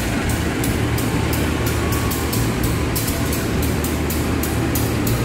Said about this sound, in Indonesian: jalurnya ini semuanya dilewati kereta api, baik yang hanya lewat ataupun yang berhenti transit